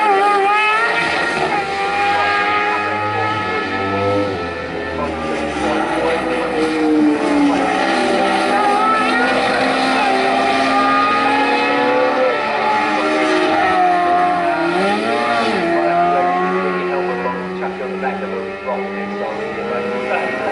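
Sidecar race outfits at Snetterton circuit scream past in a continuous, loud wall of engine noise, with several machines' pitches rising and falling as they pass close by.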